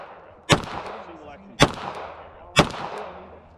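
Three distinct gunshots ring out at an outdoor USPSA practical shooting match, evenly spaced about a second apart, each a sharp nearby crack with a short echoing decay, while faint talk carries in the background.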